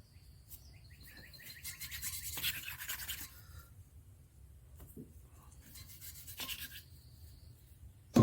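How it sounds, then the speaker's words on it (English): An engine valve from a 350 is spun back and forth on its seat with a lapping stick, giving repeated scratchy, hissing grinding bursts up close, with no talking. "basically all you're doing is spinning the valve"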